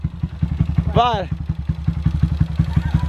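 A Honda Titan 160 motorcycle engine pulses with steady, fast rhythmic firing throughout, close and loud, while a voice briefly speaks over it near the start.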